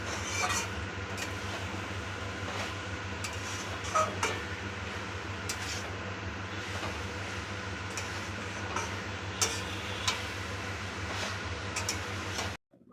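Banana flower curry (mochar ghonto) with ghee and garam masala is stirred in a pan, giving a steady scraping and rasping with light repeated ticks over a constant low hum throughout.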